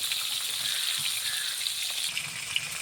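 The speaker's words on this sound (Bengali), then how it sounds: "সাইড লাল করে ভেজে দেবো" Tilapia fish frying in oil in a pan, a steady bright sizzle and crackle throughout with occasional sharper pops, close up and without talk.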